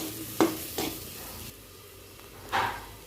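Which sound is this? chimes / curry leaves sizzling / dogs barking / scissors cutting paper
curry leaves sizzling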